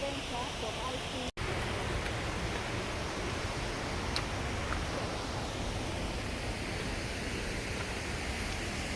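A waterfall in a Ugandan forest roars as a steady, broad wash of falling water, loud and unbroken throughout apart from one brief dropout.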